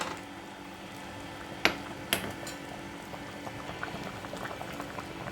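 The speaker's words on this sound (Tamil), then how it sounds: "நம்ம இது போட்டு ஒரு 5 நிமிஷம் நல்லா கொதிக்க விட்டுடுவோம்." Spicy eggplant and turkey berry curry bubbling in a pot, a steady soft boil with occasional louder pops and a couple of sharp clinks.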